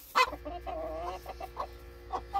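Korean Cheonggye chickens in a coop, five hens and one rooster, give a sharp squawk then a string of soft, close clucks and murmurs, with no talking.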